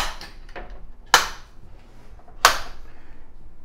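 Two sharp, close clicks about a second apart as electrical circuit breakers are flipped back on in a Mitsubishi Fuso FG truck, with a quiet background between them.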